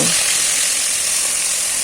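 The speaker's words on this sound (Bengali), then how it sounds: "একইভাবে বাকি মাছগুলোও ভেজে নেব" Pieces of kalbaus fish frying in hot oil produce a loud, dense, continuous sizzle that stays constant throughout, close by and without talk.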